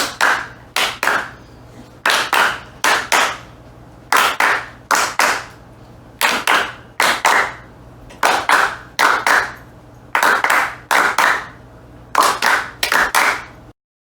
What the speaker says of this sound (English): Please join me in some clapping.